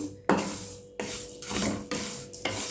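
Moong dal roasting in a pan is stirred with a spoon in repeated scraping strokes, each sweep a close, dry rasp against the metal, with faint sizzling beneath.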